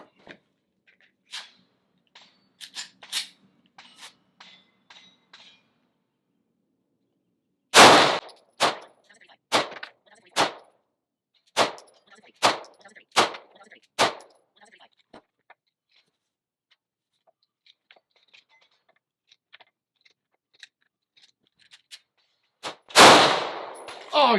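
Sharp, loud gunshots from the 43 gun in a video game crack out in irregular single bursts, with quieter ticks and clicks between them and heavier blasts near the start and end.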